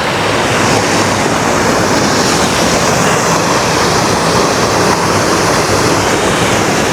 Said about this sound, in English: this is a small waterfall